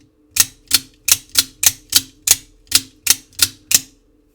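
The switch of an Axial Shift GEN3 flashlight clicks ten times in a steady, even rhythm, each click crisp, sharp and close, with no talk.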